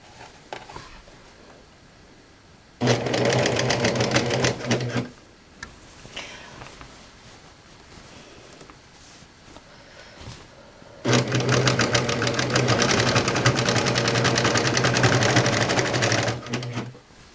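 A serger sewing machine stitches pillow fabric in two loud, steady runs of rapid mechanical whirring, separated by a quieter pause with faint handling noises.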